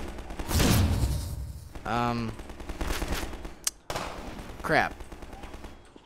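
Rapid gunfire bursts from Half-Life 2 Episode One, with snipers and antlions in the fight, crackle sharply in clusters alongside in-game noise while someone briefly talks over the action.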